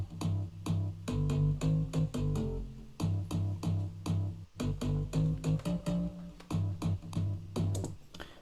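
Synth bass for a garage beat playing a bouncy, punchy donk pattern of short repeated plucked notes in tight rhythmic groups with brief gaps, loud and alone with no voices.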